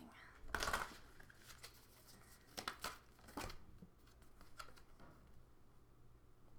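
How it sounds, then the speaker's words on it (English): Tarot cards are shuffled close by in a few short, quiet riffling bursts separated by pauses, against a faint low background. "So I'm going to do some more shuffling."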